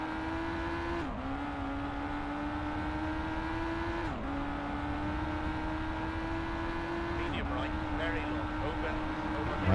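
A rally car in the arcade mode of the video game V-Rally Championship Edition 2 drones steadily at high revs, its engine pitch dropping sharply at each gear change about every three seconds.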